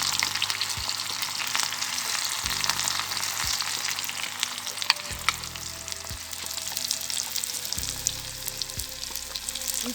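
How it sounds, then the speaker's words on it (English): Chopped onions frying for Sri Lankan moju, a steady crackling sizzle throughout with occasional low utensil knocks, close and even in loudness, no one speaking. "Now she is adding some chopped onions."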